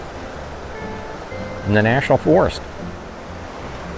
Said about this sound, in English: You can probably hear the falls in the background.